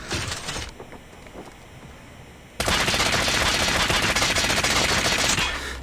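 Bursts of rapid automatic fire from an M13 rifle in Call of Duty, a short volley early on, then a loud sustained stream of shots lasting several seconds.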